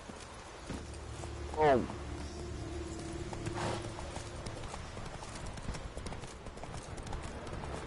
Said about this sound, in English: Let's grab the horsey. Come on, Roach.